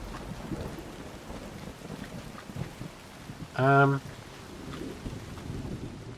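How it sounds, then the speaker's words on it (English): Thunderstorm with rain in the survival video game Soulmask, a soft steady patter of rain with a faint distant rumble underneath, a brief voice-like tone cutting in midway, and a player talking quietly over it. "And that lightning is quite scary."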